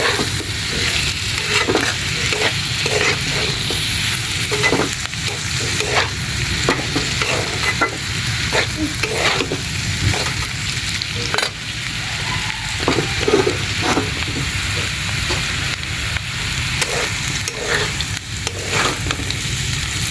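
Bitter gourd (karela) frying in a pan, a continuous crackling sizzle broken by repeated stirring scrapes, loud and close with no talking.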